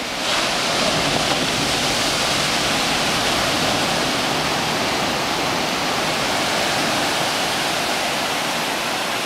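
Surf on a black sand beach in Tenerife in the Canary Islands, a loud continuous roar of breaking waves with no pauses and no voices.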